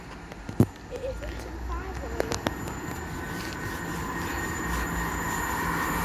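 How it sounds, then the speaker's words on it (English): A Transport for Wales passenger train passes through Patricroft station with a steady rail rumble, sharp clanks near the start and a few more midway, and the noise building slightly toward the end. "Passing through now to Transport for Wales service off to Llandudno Junction from Manchester Airport."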